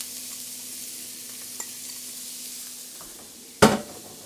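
After a quiet stretch of faint kitchen background, chopped onion drops into a hot pot-roast pan with one sharp sizzling burst that fades quickly.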